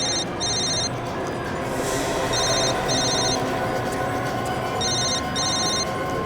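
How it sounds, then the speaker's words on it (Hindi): A telephone rings in repeated double-burst bell patterns, loud and steady over a constant background hum, with pauses between ring cycles. "साहब ये तो महेश का ही फोन है साहब।"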